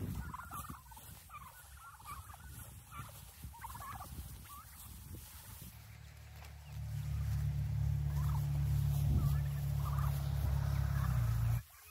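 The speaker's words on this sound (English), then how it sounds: "Turkeys always keep things interesting." Turkeys on a farm gobble in repeated rattling bursts, fairly close, first among scattered clucks, then over a steady low rumble of background noise in the second half.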